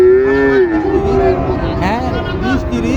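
Cattle low and moo repeatedly at a busy livestock market in Joypurhat, close and loud, with crowd chatter and voices running underneath the calls throughout.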